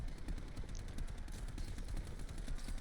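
A shield gun in Black Ops 4 Zombies fires rapid, steady bursts, a dense stream of quick shots running continuously at moderate loudness with no voices over it.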